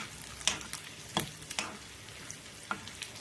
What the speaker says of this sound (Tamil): நல்லா முந்திரி எல்லாம் வரட்டும் லைட் ப்ரௌன் கலராக வர வரைக்கும் நல்லா பொரிச்சிக்கலாம்